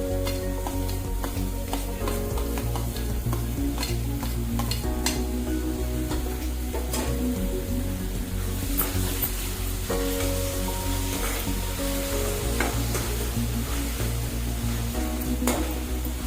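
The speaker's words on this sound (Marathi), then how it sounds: "कांदा पण 1 मिनिटभर परतून घ्यायचा आपल्याला" Chopped onion for pav bhaji sautés in a hot pan with a steady, even sizzle, and a spatula stirs it in frequent light scrapes and taps over a low background hum.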